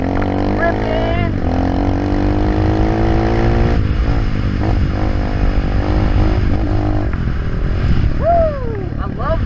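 A dirt bike engine revs hard and steadily for the whole stretch, pitch climbing and falling as the rider hits a jump, loud and close with a brief rising whine near the end.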